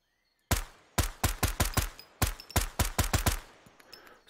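Suppressed 9mm shots from a game firearm in Road to Vostok, about a dozen sharp loud cracks in an uneven rapid sequence after a brief silence, each with a short tail.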